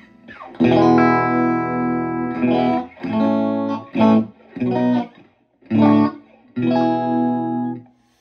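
Electric guitar playing sustained chords and short phrases through a Fender '68 Vibro Champ Reverb tube amp, with a warm tone and a noticeable reverb tail between notes, reverb set fairly high.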